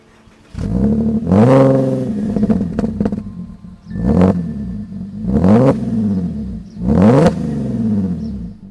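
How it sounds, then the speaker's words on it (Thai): A Porsche Cayenne V6 SUV engine idles then revs repeatedly, four sharp bursts climbing and falling, each ending back at a loud steady idle. "เรามาลองฟังเสียงเครื่องของรถคันนี้ดูครับ"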